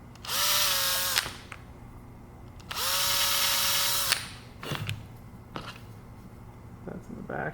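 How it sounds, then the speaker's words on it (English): A power drill bores into a 3D printed plastic part for a replica revolver, running in two steady bursts of about a second each, close and fairly loud, with a few faint clicks and handling noises afterward. "That needs to get drilled."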